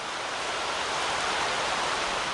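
Heavy rain pours steadily onto a pond in Vietnam, a dense, even hiss of water that stays loud and close throughout with no voices.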